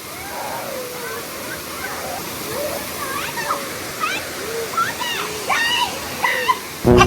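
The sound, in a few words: splashing water while washing face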